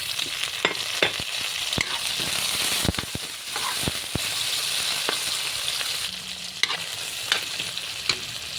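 Tomato dropped into a pan of garlic, onion and ginger fries with a steady close sizzle, broken by repeated sharp scrapes and clacks of a stirring utensil; no one talks.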